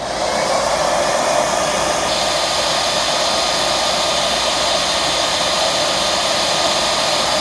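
Eureka Express 8281 vacuum cleaner running with its hose attached during an airflow test, a loud, steady, unbroken rushing whine of motor and air that holds constant throughout, close by and without talk.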